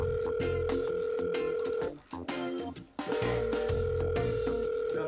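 A phone call's ringback tone sounds as a steady buzzing tone in two long bursts separated by a short gap, with music or game sounds underneath, during a mobile-game challenge where the loser must phone someone.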